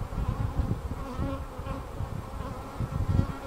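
Honeybees drone steadily around a brood frame pulled from a hive, a dense, close buzzing swarm with fluctuating low hum and no voices.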